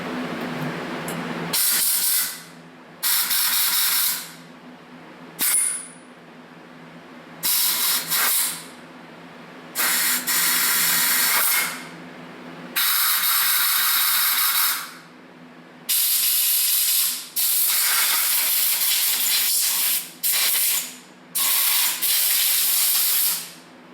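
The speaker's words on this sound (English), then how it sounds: "I'm in here one more time with the air hose." Compressed-air hose blowing out a Zenith carburetor during a forklift overhaul: about nine loud, close hissing blasts in irregular bursts with brief quiet gaps between them, no talking.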